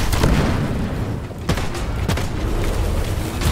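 Grenade explosions in the game Deep Rock Galactic make a loud, dense booming rumble, with sharper blasts punching through a continuous roar of battle noise.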